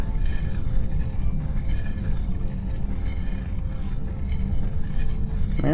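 A dust storm in the video game Cloud Climber makes a constant low rumble with a windy roar that keeps going without a break.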